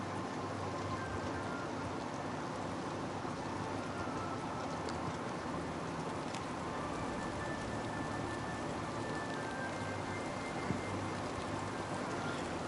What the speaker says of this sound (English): I love listening to the sound of rain.